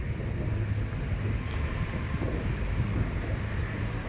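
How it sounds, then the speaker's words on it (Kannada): Strong outdoor wind buffets the microphone in a continuous low rumbling roar with gusty fluctuations, loud and steady throughout with no voices. "ತುಂಬ ಗಾಳಿ ಇದೆ"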